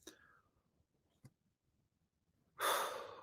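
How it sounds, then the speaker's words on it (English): A single deep breath drawn in close to the microphone, a loud airy inhale rising after near silence and a faint click. "Take a breath in."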